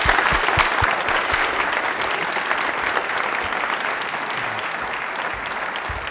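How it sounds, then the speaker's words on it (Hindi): A studio audience at an Independence Day quiz show breaks into loud, sustained clapping, a dense continuous roar of many hands that stays strong for the whole stretch. "एक बार तालियां जोरदार।"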